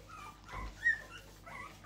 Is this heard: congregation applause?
no